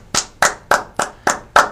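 A single person claps hands six times at an even, steady pace, each clap sharp, close and dry with a quick decay, and no other sound between them.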